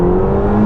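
A loud, close Ferrari Roma engine revving with a steady, droning roar for a brief moment.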